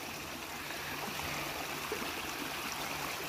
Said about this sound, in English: The water comes rushing down the river here, rushing down, smashes into this bank